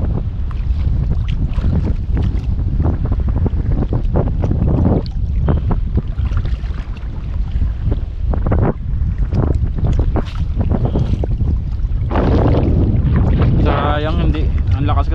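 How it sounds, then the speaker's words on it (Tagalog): Strong wind buffets the microphone on a small fishing boat at sea, a steady loud roar with water slapping the hull, and someone talks over it now and then. "ang lakas kasi ng hangin"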